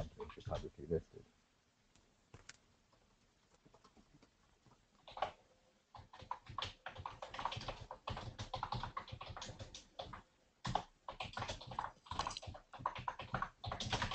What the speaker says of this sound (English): While you're typing away